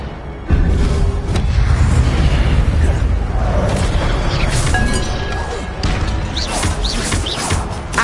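A booming fiery blast from the Incendio spell in Hogwarts Legacy: a loud, deep whoosh-and-rumble that erupts suddenly and rolls on, with crackling bursts and sharper pops scattered through it.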